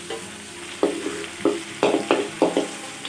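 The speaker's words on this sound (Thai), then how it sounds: "เราผัดพริกแกงเผ็ดให้หอมนะคะ" Red curry paste frying in a pan gives a low, steady sizzle, broken by six or seven sharp scraping stirs spread across a few seconds, with no talk.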